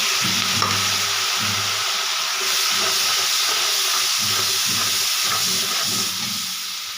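Chili, turmeric powder and salt sizzling in hot oil in a pan, a steady loud hiss with intermittent stirring scrapes, close up and continuous, with no voices.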